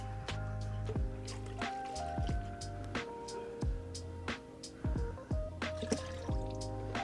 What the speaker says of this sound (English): We're first going to add our Shine All to the water.